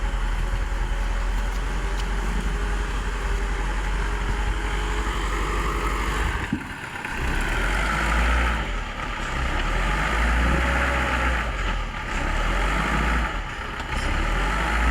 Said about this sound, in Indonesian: kita tunggu dulu sampai mobil truk selesai